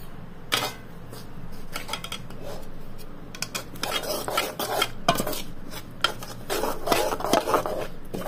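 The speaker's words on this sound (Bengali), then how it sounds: "এবার এই ওটসটাকে আমরা অল্প অল্প জল দিয়ে ভালো করে গুলে দেব।" Oats mixed with a little water are stirred into a batter, a spoon scraping and clinking against the bowl in irregular bursts, close and moderately loud, with no talk.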